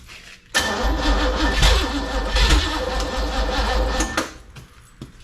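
A 1972 Chevelle's Chevrolet 396 big-block V8 cranks and catches, then runs loud and rough for several seconds with a heavy low rumble before the revs drop back.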